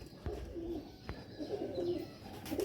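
Pigeon cooing close by, several soft throaty coos in a loose rhythm, with a couple of sharp knocks or taps between them in a quiet room.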